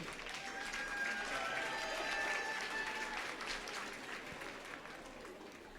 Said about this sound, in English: give a nice round of applause to Mr. Garrick St. Pierre